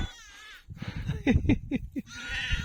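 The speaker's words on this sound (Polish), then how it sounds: "Owce są ogarnięte. Trzy jareczki." Sheep on a farm, including young ewes, bleating in several short, close calls, with some quiet rustling and movement around them and no speech.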